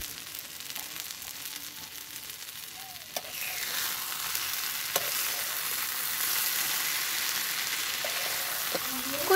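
Boiled taro leaves sizzle steadily in a pan while being stirred to cook off their released water, a broad continuous hiss with occasional scraping clicks of the spoon, growing slightly louder after a few seconds, no voices.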